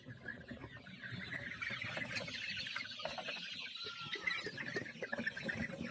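Chickens on a Sonali poultry farm cluck and fuss continuously in a dense, restless chorus, with scattered sharper squawks rising over the steady flock noise; no one speaks.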